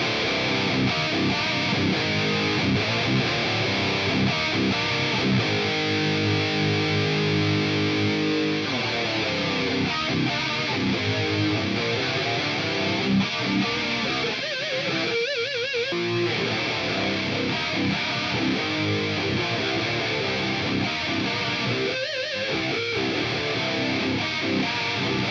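A dense, distorted electric guitar plays continuously through a stereo detune effect, with a wide, thick, chorused sound throughout.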